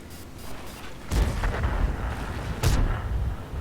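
Artillery fires in the World of Tanks tank game: two heavy booms, one near the middle and one toward the end, each rolling out over a rumbling battle background.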